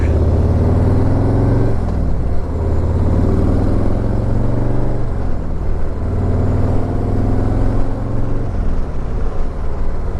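A Harley-Davidson SGS motorcycle on the move, its engine a loud, steady, deep rumble that carries without a break, with small swells in throttle and no talking.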